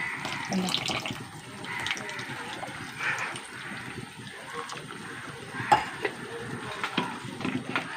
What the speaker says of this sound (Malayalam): ശകലം പുളിവെള്ളം ഒഴിച്ചു കൊടുക്കട്ടെ